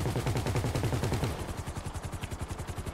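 Rapid automatic gunfire in GTA 5 during a heist mission, a steady burst of repeated shots that runs through the whole stretch, loud and close at first and slightly lighter toward the end.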